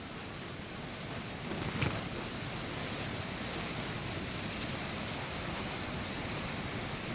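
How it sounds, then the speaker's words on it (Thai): Flash flood water rushes through a village or waterfall area after a night of heavy rain, a loud, steady roar that fills the whole stretch without a break. "น้ำมาเยอะมากครับ อันตรายครับ"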